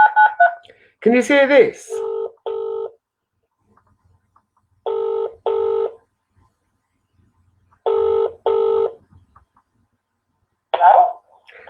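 A telephone on speakerphone gives paired electronic tones, like dialing or ringing, repeated in clear sets separated by silence. A voice speaks briefly before the first tones, and another sound follows at the end.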